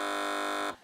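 A game show buzzer on a TV comedy news quiz sounds a single loud, steady electronic tone for under a second before cutting off sharply.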